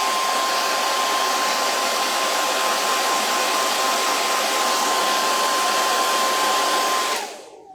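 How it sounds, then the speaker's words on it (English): Handheld hair dryer blowing at a steady, loud, continuous roar with a constant whine, used to dry paint on dollar store chip brushes, then switching off and winding down at the end. "I hate to do this, is put the hairdryer on"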